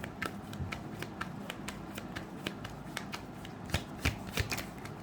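Tarot cards being shuffled and drawn, a rapid run of crisp riffling flicks and snaps repeating over several seconds, fairly close and steady, with a few sharper card slaps near the end and no voice.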